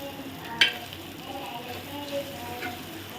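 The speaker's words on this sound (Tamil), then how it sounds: "இஞ்சி பூண்டு பேஸ்ட் ஆட் பண்ணியாச்சு. நல்லா அந்த பச்சை வாடை போகிற வரைக்கும் நல்லா வதக்குங்க." Ginger garlic paste and onions fry in a pan, giving a close crackling sizzle with a sharp stirring clink near the start and a few soft scrapes.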